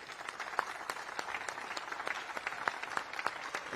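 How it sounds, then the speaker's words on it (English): Applause from an audience at a basketball coaching conference, a steady, fairly distant patter of many hands clapping that lasts the whole stretch, fairly quiet and without voices on top. "Can we give a round of applause to Jordanas and his kids?"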